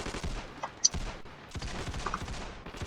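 A SWAT unit firing weapons in the battle sandbox game Ravenfield, a rapid, dense volley of shots with sharp cracks, running steadily through the clip.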